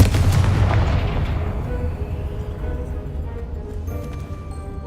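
A fiery spell blast in the Hogwarts Legacy video game goes off with a loud booming burst that rolls into a long fading rumble, followed by a faint airy tail with light shimmering tones.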